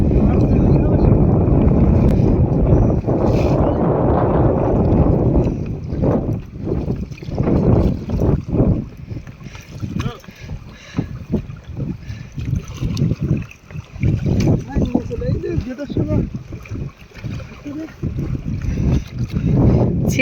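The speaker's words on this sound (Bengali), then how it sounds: "এই যে তুফানটা হচ্ছে দেখুন, নৌকা কিন্তু একবার নিচে নিয়ে যাচ্ছে," Stormy wind roars and buffets across a small fishing boat on rough water, heavy at first, then gusting with sloshing waves and splashes while someone talks throughout.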